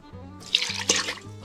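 White vinegar poured from a measuring cup for jalapeño jelly, a short splashing gush with a few distinct bursts, close and clear, alone without talk.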